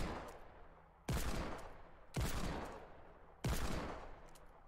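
Double Deagle pistol shots in a Fortnite Battle Royale Season 8 aim-training course, three sharp loud reports about a second apart, each ringing out and decaying before the next, with no talking.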